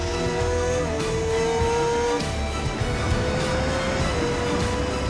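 A GMT94 600cc racing motorcycle ridden by Jules Cluzel laps Circuit Carole, its engine a loud, sustained high whine that rises and falls in pitch as it runs, with no talking.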